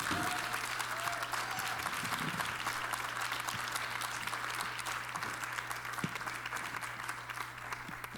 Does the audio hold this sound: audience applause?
yes